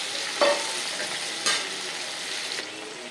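Onions for upma sauté with a soft, steady sizzle, and a utensil makes two or three brief scraping stirs through the pan.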